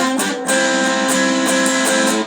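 Distorted electric guitar strums the rhythm part of a song's pre-chorus, sustained chords broken by a few sharp rhythmic accents, loud and close with nothing else playing.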